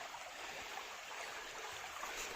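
Water flows steadily down a small waterfall in a forest, a continuous broadband rush with no breaks, close and moderately loud, with no voices.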